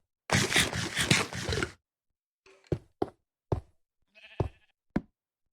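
A Minecraft sheep lets out a long, loud, close bleat, followed by a string of short, sharp knocks and taps spaced across the following seconds.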